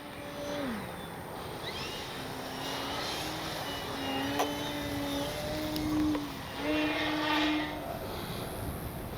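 An electric Flex Aviator 40E radio-control plane flies its maiden flight, a thin whining motor tone that rises and falls in pitch as it passes, heard at a moderate distance over steady outdoor background noise.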